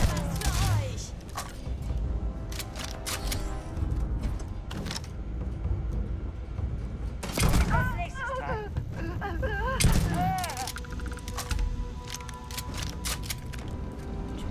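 A rapid volley of gunfire from a new weapon in the space game Starfield, sharp bursts recurring throughout at steady loudness, mixed with game effects and someone talking over them.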